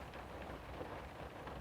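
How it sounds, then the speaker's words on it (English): Steady rain patters on a surface, a dense even hiss of drops with no pauses and no voices over it. "That's the rain."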